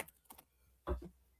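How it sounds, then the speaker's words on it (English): A few quick computer keyboard keystrokes, close and isolated, then a heavier thud of a key press, with no talking. "Bit of typing there"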